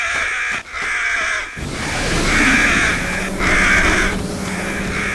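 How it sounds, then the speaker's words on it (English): Crows in the video game Fragile Dreams caw in a few harsh, drawn-out calls over a constant background hiss of game ambience, loud and near. "Crows. Fucking crows. These are just harder versions of the pigeons."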